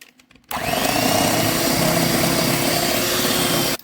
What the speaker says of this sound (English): And we're going to blend this with our beater.